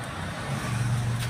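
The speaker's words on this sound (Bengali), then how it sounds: "গাড়ির ইঞ্জিন সাউন্ডটা হলো অরিজিনাল ভালো আছে" A used Bajaj Pulsar motorcycle idles nearby in a steady low engine hum that rises slightly partway through, with faint background noise and no voices.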